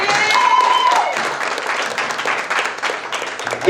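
Applause from an open mic audience swells loudly, then thins into scattered clapping that trails off over a few seconds, with a faint voice briefly heard at the start.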